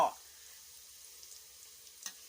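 Chopped pickled radish (chai po) stir-fried in a pan, giving a soft, steady sizzle with a brief scrape of the spatula near the start and another near the end, faint and without talk.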